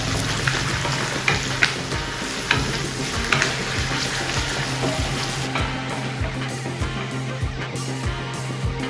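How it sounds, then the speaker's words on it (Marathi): Curry leaves, ginger, garlic and whole spices roasting in an oil-filled pan for a Bihari-style chicken masala, giving a steady close sizzle and crackle with repeated scraping stir strokes throughout. "आता हे संपूर्ण इन्ग्रेडियंट आहेत ना 2 ते 3 मिनटं व्यवस्थित असं भाजून घ्यायचं आहे."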